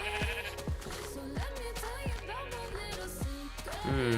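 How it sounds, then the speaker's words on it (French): Sheep bleating in a video game, several short wavering bleats at irregular intervals over a low steady background, fairly close and clear, with no talk. "Coucou les moutons."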